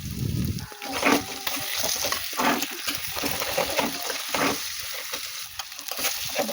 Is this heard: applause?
no